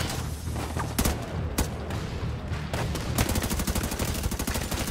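Rapid gunfire in The Division 2 open beta: bursts of automatic weapon shots crackle densely throughout, loud and close, with a steady stream of sharp reports toward the end.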